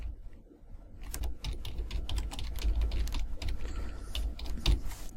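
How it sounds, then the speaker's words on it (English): A command being typed on a computer keyboard to run a Python script, a quick burst of close, clattering keystrokes that starts after a brief quiet moment, with no talk. "to run it, we can just type Python hello.py"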